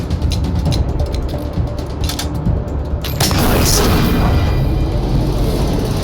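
A loud, booming gunshot goes off in the post-apocalyptic game Wasteland 3 during combat with a robot, followed by a heavy, lingering rumble.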